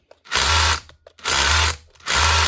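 A faulty Makita hammer drill running in hammer mode, close up: three separate bursts of buzzing, rattling hammer action, each under a second long, with short silent gaps between them and no talking.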